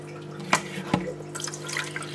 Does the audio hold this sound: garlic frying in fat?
no